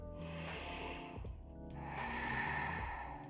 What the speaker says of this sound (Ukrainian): Передостанній вдих